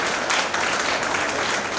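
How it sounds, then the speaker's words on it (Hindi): Dense, continuous clapping from an audience at an annual community function, loud and even throughout with no voices rising above it. "एक बार और तालियां बजाइए इसके लिए।"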